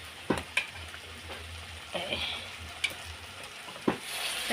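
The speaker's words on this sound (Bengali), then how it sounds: "এখন আমি দিয়ে দেবো মাটনগুলোকে সব এইভাবে দিয়ে দেবো দিয়ে কষাবো" Boiled mutton stir-fried in spiced oil in a pan, a soft sizzle with several sharp scraping clatters of a spoon against the pan at irregular intervals.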